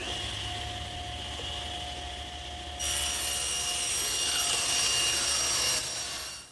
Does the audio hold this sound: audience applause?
no